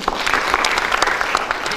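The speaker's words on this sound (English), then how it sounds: "A clap for that office, Dr. White." An audience at a national student economics debate gives a burst of applause, many hands clapping fast and unevenly at close range, lasting the whole short stretch.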